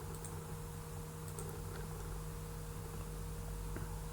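Fingers tap on a computer keyboard while typing a domain name into a website builder, light clicks scattered over a steady electrical hum, with no talking.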